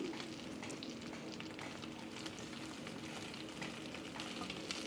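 Rolled pieces of brinjal (eggplant) fry in hot oil, giving a steady, soft sizzle with fine crackling throughout, quiet and close, with no voices.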